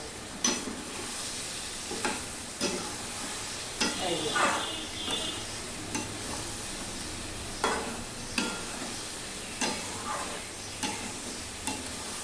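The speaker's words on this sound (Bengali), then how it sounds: "এবার এটা ভালো করে কষাবো।" Dried fish and potato curry sautéing in a pan with a little water, a low hiss under regular scraping strokes of a spatula every second or so.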